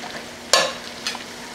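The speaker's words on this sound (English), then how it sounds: "So we're going to just add it in now to the meat and just stir it around." Garlic and ground meat sizzling in a pan for bolognese sauce, with two quick bursts of stirring scrapes over a steady close fry.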